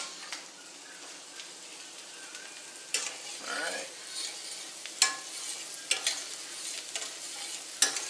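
Soft, steady sizzling of sausage frying in a pan on aluminum foil, with a few sharp clicks and scrapes on top and a brief spoken remark.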